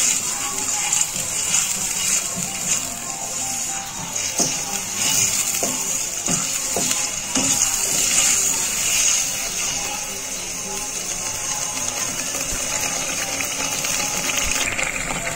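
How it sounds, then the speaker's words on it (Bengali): Spices fry in hot oil for a hilsa curry with a continuous bright sizzle and hiss, broken by a few scraping, clattering stirs near the middle. No one speaks. "এখন মাম্মি মশলাগুলো ভালোভাবে কষিয়ে নিচ্ছে।"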